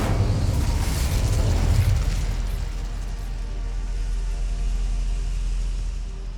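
A fire spell explosion in Hogwarts Legacy, a loud close boom with a deep roaring burst that decays over several seconds into a lingering rumble.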